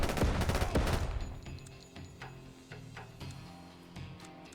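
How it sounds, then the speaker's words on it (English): In Door Kickers 2, a loud flashbang burst opens a room breach, with a dense roar of gunfire that fades into scattered shots and rumbling echo. "You're gonna chuck a flash right there. Flashbang out."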